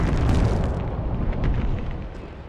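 An explosion in the PS1 game Medal of Honor, where tanks are being blown up: a loud, broad rumbling blast fills the clip, with a dense low roar that slowly fades, alone with no talk.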